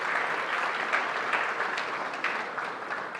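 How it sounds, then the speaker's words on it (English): Sustained applause from a conference audience at an African business event on intrapreneurship, welcoming the next speaker to the stage: dense, steady clapping that fills the room throughout. "A round of applause, ladies and gentlemen."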